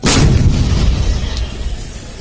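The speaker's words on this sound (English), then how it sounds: "The 130mm gun and Sultan gun in front of you will now fire in" A 130mm gun and a Sultan artillery gun fire a single heavy boom at close range, followed by a long, rumbling echo that slowly fades.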